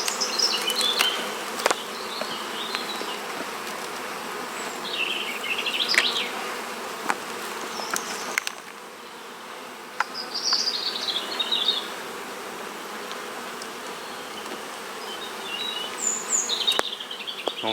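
Honeybees buzz around an open hive while frames are worked during honey harvest, a steady hum with individual bees passing close and fading, alone without voices.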